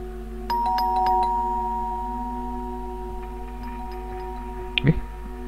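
A doorbell rings in the horror game The Baby in Yellow, a short chime of steady tones early on and a brief bright burst near the end over a quiet background hum.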